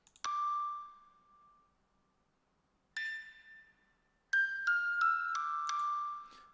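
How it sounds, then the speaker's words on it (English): Bell tones from a free DSK music-box VST plugin: a single ringing note, a second higher one, then a quick run of several bright struck notes, each decaying cleanly in quiet. "But it's like a music box."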